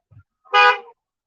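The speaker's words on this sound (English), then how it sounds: "these fucking Amalekites be straight honking the horn on purpose" A single short car horn toot sounds close on a city street, loud and clear against near silence, with a faint thump just before it.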